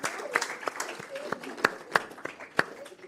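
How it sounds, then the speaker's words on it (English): A small audience at a board meeting claps to welcome a new staff member, giving scattered, moderately quiet hand claps with distinct individual claps standing out over a light murmur. "let's give her a round of applause and a warm welcome to 7500"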